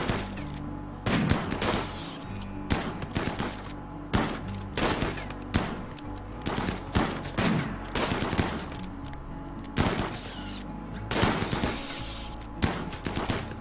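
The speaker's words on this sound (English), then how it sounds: "Can you three carry on shooting that thing?" Colonists shooting in Rimworld, with steady volleys of gunshots popping at irregular intervals, some clustered in quick pairs, over a constant low background hum.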